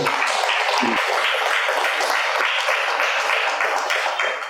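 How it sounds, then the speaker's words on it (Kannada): An audience claps for Smt. Priyanka, a guest speaker at a Kannada spiritual gathering marking Patriji's birthday, dense sustained applause from many hands that carries loudly throughout and fades slightly at the end. "ಈ ದಿನ ಬಂದಿರ್ತಕ್ಕಂಥ ಶ್ರೀಮತಿ ಪ್ರಿಯಾಂಕಾ ಮೇಡಮ್ ಅವ್ರಿಗೆ ಜೋರಾಗಿ ಒಂದು ಚಪ್ಪಾಳೆನ"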